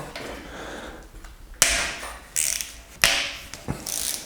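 A ratchet wrench clicks and clacks loudly while loosening the camshaft bearing bolts on a Peugeot 205 GTI 1.9 engine. Several sharp metallic bursts sound up close between quieter gaps.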